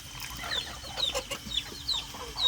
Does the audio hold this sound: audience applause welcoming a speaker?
no